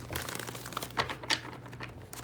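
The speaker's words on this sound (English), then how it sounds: "All right, one more shuffle and we're ready." A deck of tarot cards is shuffled at close range, a quick run of papery riffles, flicks and crinkles with uneven bursts, fairly quiet and heard alone without talk.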